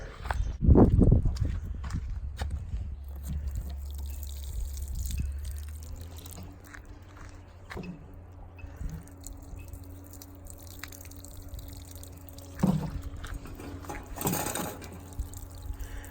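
Water drips and splashes while plants are watered outdoors, scattered irregular drops and taps over a low background rumble, with a few louder clatters along the way.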